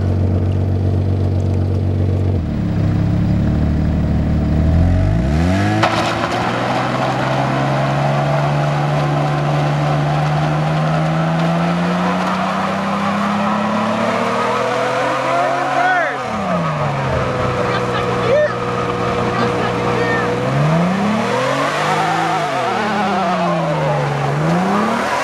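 A Nissan 300ZX with its VG engine revs hard and spins its tires, the engine note climbing and falling through long loud sweeps with a sharp gear change, close and dominant throughout.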